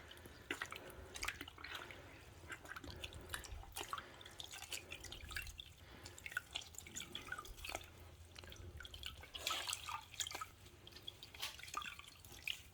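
Water drips and trickles as a car cleaning cloth is rinsed in a full bucket. Irregular splashy drops sound close and fairly quiet throughout.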